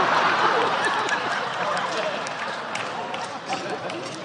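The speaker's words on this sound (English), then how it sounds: "Why are you clapping?" Audience clapping during a comedian's storytelling, a continuous wash of applause mixed with crowd noise and voices, fairly loud and gradually easing.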